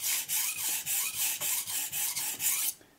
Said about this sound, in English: I just sharpen until I feel the burr all the way from the tip to the bottom